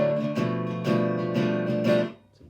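Unmuted acoustic guitar strings strummed and left ringing, several loud, messy strokes blending into a noisy wash that fades at the end, with no voices.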